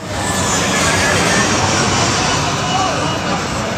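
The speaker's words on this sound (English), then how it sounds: "a plane flew over us" A plane passes overhead during an outdoor squatted-truck meet at a gas station, a loud, steady broadband roar that fills the whole clip, with crowd chatter mixed underneath.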